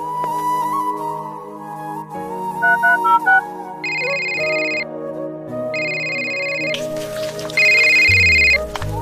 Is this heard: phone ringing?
yes